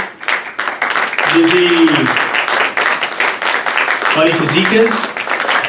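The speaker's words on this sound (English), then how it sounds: "one more time, a round of applause" An audience at a live kitchen-table show applauds, with continuous crowd clapping running underneath a host who keeps speaking over it.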